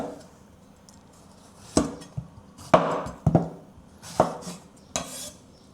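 A knife cuts the ends off a straight Chinese eggplant on a cutting board, giving a handful of sharp, close chopping knocks at uneven intervals over a quiet background, with no voices.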